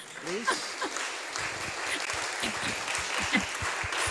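An audience breaks into applause, a steady patter of clapping hands mixed with a few voices and laughter, fairly distant and sustained throughout.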